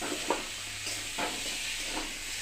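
Spinach frying in a pan with vegetable spice and potatoes gives a steady, soft sizzle and hiss throughout, with a few faint stirring scrapes.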